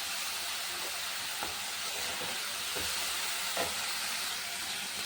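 Data shak greens stir-fried with green chilli, turmeric and salt in a pan, giving a dense, hissing sizzle with a few soft stirring scrapes, steady and close with no voices.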